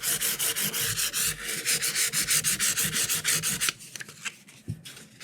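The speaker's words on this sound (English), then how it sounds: "I'll take a piece of 600 or sandpaper, and I'll start with that. Now we'll just start taking all the file marks out." Sandpaper of 600 grit rubbed by hand in quick back-and-forth strokes over a 1958 Gibson LG-1 acoustic guitar to clear file marks, steady rhythmic scrubbing that stops partway, leaving a few light taps and handling noises.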